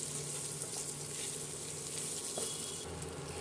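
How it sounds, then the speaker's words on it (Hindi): Mango pieces fry with spices in a pan, making a faint, continuous hiss and sizzle with no talking. "सारे मसाले भी हमें हमारे आम के साथ अच्छे से मिक्स हो जाएंगे और हमारे आम भी अच्छे से फ्राई हो जाएगा।"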